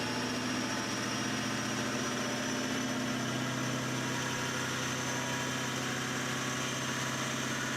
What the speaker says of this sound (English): you guys can actually hear the engine being run out